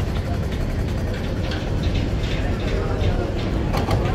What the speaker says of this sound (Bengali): এখন এই যে ব্যাক গিয়ার দিয়ে দিল, 5:36-এ লঞ্চ ব্যাক গিয়ার দিয়ে দিল।